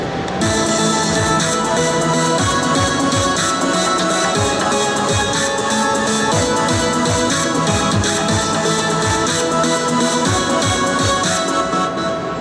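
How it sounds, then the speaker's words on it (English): A dense, bright synth layer plays continuously with a steady pulsing rhythm and punchy low hits underneath, loud and full across the whole passage. "And all together with the hybrid synth, it sounds like this."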